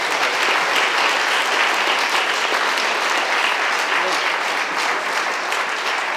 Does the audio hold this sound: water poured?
no